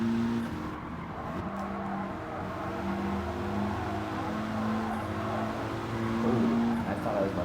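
Race car engines in Gran Turismo 7, driving a Mitsubishi on track: a continuous droning engine note with shifting pitch and revving as other cars run nearby, while someone talks over it throughout.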